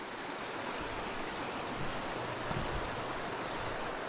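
Ten Mile River flowing beside a riverside tentsite on the Appalachian Trail near Kent, Connecticut, a steady, full rushing of water that holds even and continuous throughout with no voices.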